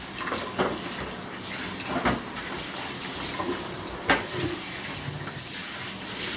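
Water runs from a shower while a shower strainer plate is rinsed, a continuous hissing spray with a few louder splashes as the plate moves through the stream, close and alone without talk.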